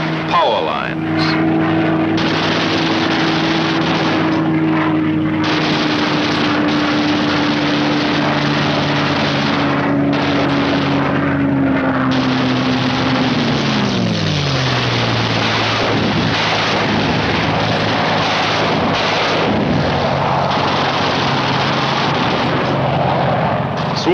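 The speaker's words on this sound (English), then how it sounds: "Skimming along at maximum speed, the fighters pair off and go to work" World War II fighter planes skimming low at maximum speed give a loud, continuous engine roar with a steady drone that bends downward as they pass, under a narrator's voice.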